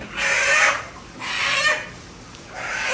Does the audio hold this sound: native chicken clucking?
yes